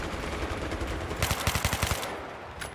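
Suppressive machine gun fire in Battlefield 3 sounds as a rapid, steady burst of loud automatic shots over a dense battlefield rumble.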